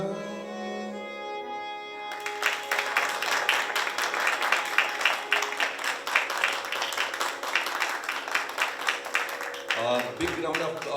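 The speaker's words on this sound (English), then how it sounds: "big round of applause for Pandit Satish Ampiwade ji" After a sung Hindustani classical phrase with drone ends, an audience at a temple concert breaks into steady, dense applause that holds for several seconds, then a voice starts speaking at the end.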